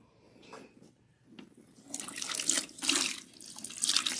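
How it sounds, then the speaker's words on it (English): Tap water runs while a protein treatment is rinsed out of natural hair without shampoo, splashing in uneven bursts that start faint and grow fuller and closer as the hair is worked under the stream. "It's just rinsing out the protein treatment."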